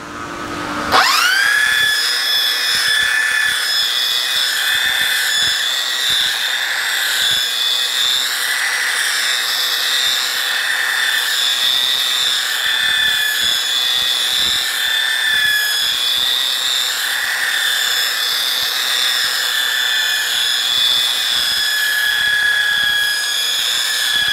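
A belt sander with a four-inch belt sands a barn wood mantel, a steady, high-pitched whine running continuously from start to finish, loud and close, with no talking.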